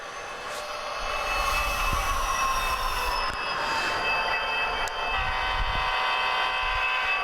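A model train locomotive driven by a Tsunami2 sound decoder under light throttle, with a steady engine drone, high whining tones and squealing wheel noise rising and falling, plus a few sharp clicks.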